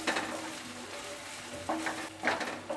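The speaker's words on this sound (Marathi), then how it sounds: "आता आपल्याला हे आलं लसूण आहे ना ते सुद्धा आपल्याला परतून घ्यायचं आहे।" Crushed ginger and garlic sautéing in a pan, a soft sizzle under a few stirring scrapes and light clinks, fairly quiet and close with no talk.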